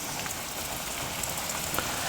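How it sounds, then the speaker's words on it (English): Fierce rain pouring down during Storm Dennis over a woodland garden, a steady dense hiss of drops hitting surfaces, loud and continuous throughout without any voices. "you know the rain is"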